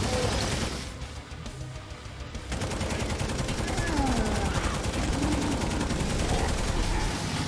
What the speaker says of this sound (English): is this a fast-firing big machine gun?